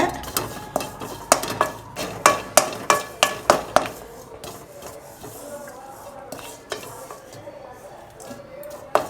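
Coriander seeds and dry ginger dry-roast over a low flame in a pan for sukku malli coffee, a spoon scraping and clinking against the metal in a quick rhythmic series, then quieter stirring with faint rustling.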